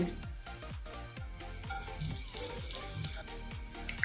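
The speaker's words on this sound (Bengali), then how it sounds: "কয়েক সেকেন্ড সময় নিয়ে হিংটা ভেজে নেব।" Half a spoon of asafoetida frying in a hot wok of white oil and ghee, a steady close sizzle with faint stirring scrapes and no voices.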